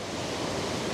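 An ocean wave rolls in on a rocky shore under a cloudy sky, giving a steady, broad wash of surf. It is moderately loud and continuous, with no voices.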